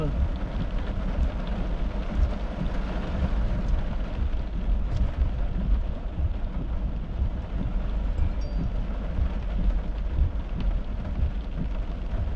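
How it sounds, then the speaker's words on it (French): A thunderstorm with steady heavy rain and low rumbling thunder runs continuously at a constant loud level throughout, with no clear breaks. "Donc, c'est des orages."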